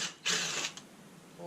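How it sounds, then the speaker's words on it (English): Ratchet wrench loosening a bolt on a 2020 Polaris RZR Turbo S door, one short close burst of rapid clicking lasting about half a second, followed by quiet. "I'm going to loosen up this first bolt here."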